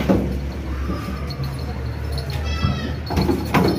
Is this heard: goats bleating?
yes